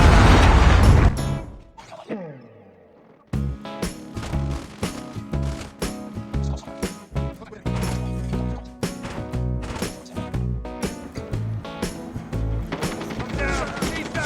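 Predator missile strikes explode during a Call of Duty match, with a loud blast at the start followed by dense, rapid bursts of gunfire and game effects. Voices call out over the action.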